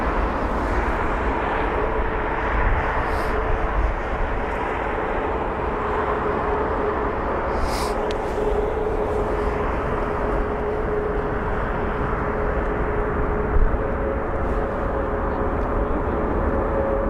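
A jet airliner rumbles steadily at London Heathrow airport, a continuous loud engine roar with a faint whine rising through the middle, no voices over it.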